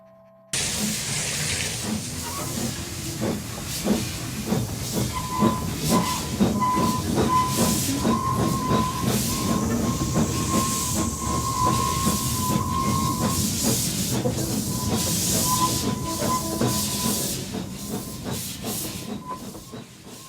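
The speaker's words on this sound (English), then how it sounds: "They're going to inject some fresh steam sounds into the old pipe network." Steam hisses loudly and continuously from a steam train on the SKLR railway line, with rhythmic clicks and a faint sustained whistle-like tone running beneath.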